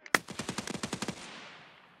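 Automatic gunfire in Escape from Tarkov, a rapid burst of about ten close shots fired in even succession, followed by a fading echo tail.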